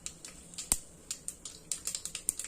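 Mustard seeds splutter in hot oil for a mushroom curry, making a rapid series of sharp crisp pops and crackles, close and fairly faint.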